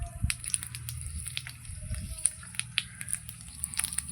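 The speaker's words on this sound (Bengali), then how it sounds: "প্রথমে দিয়ে দেবো ফোড়ন, গোটা জিরে," Whole cumin and a dried chilli sizzle in hot oil. A soft, steady crackle is dotted with small sharp pops, close and fairly quiet.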